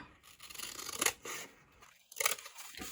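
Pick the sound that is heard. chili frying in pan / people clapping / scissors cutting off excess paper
scissors cutting off excess paper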